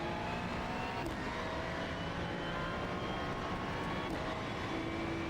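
A Ferrari GT3 race car engine drones steadily in a racing game at Suzuka, a loud continuous roar with a faint tonal whine that holds through the whole stretch.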